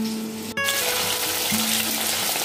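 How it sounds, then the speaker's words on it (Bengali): Fish pieces fry in hot oil for a Bengali fish curry, giving a steady, fairly loud sizzling hiss that begins after a brief clatter and carries on alone. "মাছ কটা ভাজা হয়ে গেছে"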